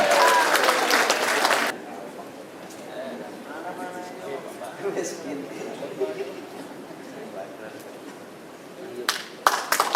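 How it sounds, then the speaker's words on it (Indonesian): Audience applause at a 35th anniversary event for Big Bird: a loud burst of clapping at the start fades into a murmuring crowd, then another short round of clapping breaks out near the end. "Tepuk tangan dong."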